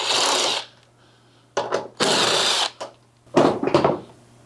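A power tool works at close range while a car headlight assembly is removed, giving several loud whirring bursts of varying length separated by short quiet gaps.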